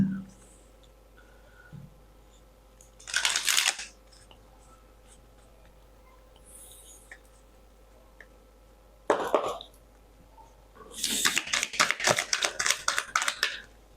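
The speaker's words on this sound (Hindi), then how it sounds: "तो चलिए कार्ड शफल करते हैं" Tarot cards shuffled by hand in a quiet room, two short riffling bursts a few seconds apart and then a longer flurry of rapid flicks near the end, close and crisp.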